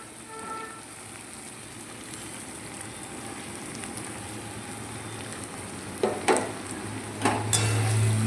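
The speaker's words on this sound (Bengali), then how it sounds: "এখানে কড়াইয়ে পেঁয়াজটা ভাজা ভাজা হয়ে গেছে। এবার আমি মশলাগুলো দিয়ে দেবো।" Spices and fried onions cook in a kadai with a soft, constant sizzle. A few louder metallic scrapes and clanks of stirring come near the end.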